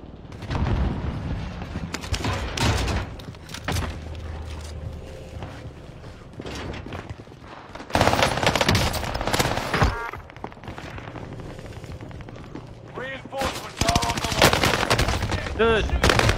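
Gunfire in a video game shootout: repeated loud close bursts and rapid automatic volleys with mechanical clanks, continuing throughout with brief lulls between bursts.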